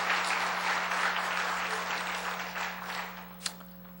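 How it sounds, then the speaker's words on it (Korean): A church congregation claps together for a graduate who has just earned a doctorate, during a Friday late-night prayer service; steady dense applause fills the room, fading slightly toward the end with a sharp clap near the close. "우리 한번 다시 크게 축하의 박수 하겠습니다"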